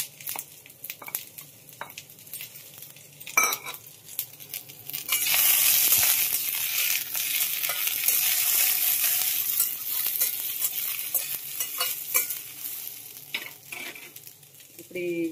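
Washed curry leaves dropped into hot oil, a sudden burst of loud crackling sizzle that settles into steady frying, preceded by light clinks and stirring of a utensil in the pan.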